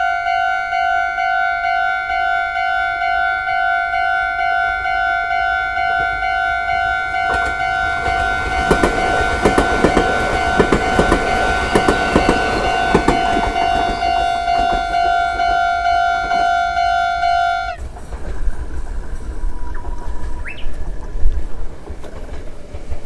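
A train passes a level crossing near a factory in Brazil, its horn sounding loud steady tones over the growing rumble and clatter of wagons, ending abruptly into quieter ambient noise and faint distant sounds.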